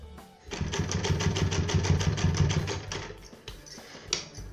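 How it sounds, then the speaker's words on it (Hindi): Sewing machine running steadily for about three seconds while stitching piping onto a garment sleeve, a close rapid mechanical chatter that then slows and stops, followed by a few soft handling clicks. "और फिर यहाँ पे ऐसे इस तरह से हम उसको सिलाई लगाएंगे"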